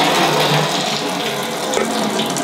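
Freshly ground coconut milk, prepared for making pure coconut oil, is poured into a pot in a steady, loud, close stream that splashes continuously from start to finish.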